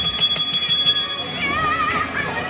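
A small bicycle-type bell rings in a quick run of bright, loud strikes, then gives way to a lingering, wavering metallic tone.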